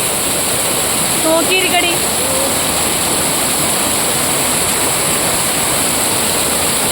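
Water flows steadily at an outdoor bathing spot, a loud, even rushing that fills the scene, with a brief voice heard over it.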